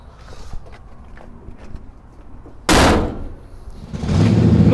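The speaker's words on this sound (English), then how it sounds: "Don, what do you say you close the hood" The hood of a 1962 Pontiac Tempest Le Mans Super Duty 421 drops shut with one loud, close slam, preceded by faint shuffling and followed by a low rumble.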